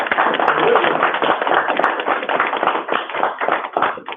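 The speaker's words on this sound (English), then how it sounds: "Can we give Ms. Warnick a round of applause?" Applause in a county commissioners court for an honoree, a fairly close burst of clapping from a small group with individual claps audible and a few voices mixed in.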